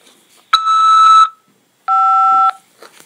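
Two electronic tone beeps from a jail phone system, the first higher and the second lower, each held for under a second with a short silence between.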